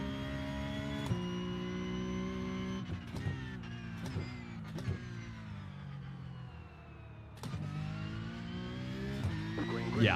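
GT3 race car engine in the iRacing video game, a sustained high engine tone with sharp blips of a late downshift and gear changes, steady and close throughout.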